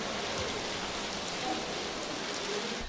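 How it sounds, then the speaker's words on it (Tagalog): Heavy, gusty monsoon rain pours over Taal Lake in Laurel, Batangas, a dense, constant hiss of downpour with no gaps or voices. "Halos zero visibility sa Taal Lake dahil sa malakas at pabugso-bugsong ulan dulot ng habagat"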